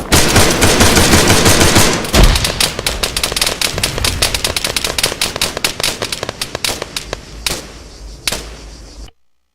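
Sustained rapid bursts of machine gun fire in the Arma 3 war game, loud and close, rattling fast then thinning into scattered shots before stopping abruptly.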